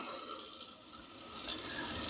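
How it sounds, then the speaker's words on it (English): Hot water running steadily from a kitchen tap into a sink before washing rice, a continuous close hiss and splash without talking. "I'm going to turn on the hot water."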